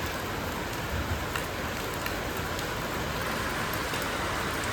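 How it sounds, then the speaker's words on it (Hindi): Steady rain falls at night on arrival in the city of New Alipurduar, a dense, even hiss of drops on surfaces that holds close and constant throughout, with no voices over it. "जैसे अपने डेस्टिनेशन था वैसे बारिश शुरू हो गई"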